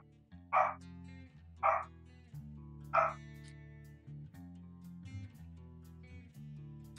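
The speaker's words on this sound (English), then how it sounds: "there's the old dog making an appearance again" Three loud dog barks in a game setting, spaced about a second apart, ringing out over a steady low truck engine drone that carries on alone afterward.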